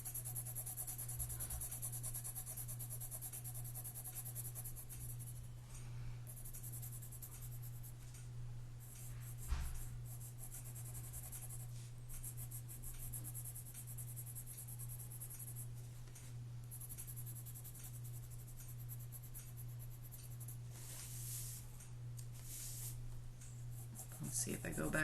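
Graphite pencil shading on paper, a steady, soft scratchy rasp of strokes going back and forth that runs nearly continuously at close range, with a low steady hum underneath and no talking.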